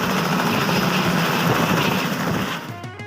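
A helicopter carrying a groom to a village wedding flies overhead, a loud continuous rotor whir and roar that begins to fade near the end, with no voices over it.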